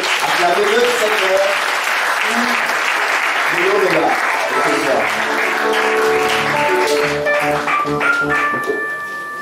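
An audience at a certificate-awarding ceremony applauds loudly and continuously, dense clapping mixed with cheering voices and a speaker talking over it, while sustained musical tones enter in the second half and the clapping eases toward the end.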